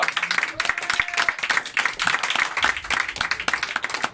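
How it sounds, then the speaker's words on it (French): Audience applause fills a lively show, dense overlapping clapping from a crowd that runs steadily throughout, close and loud with a few shouts mixed in. "Maximum d'applaudissements, s'il vous plaît."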